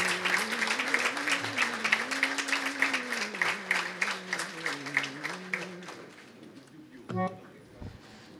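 An audience at a staged music programme of Marathi theatre and devotional songs applauds the event organiser, sustained rhythmic clapping for about six seconds that fades out, with a speaker's voice running beneath it.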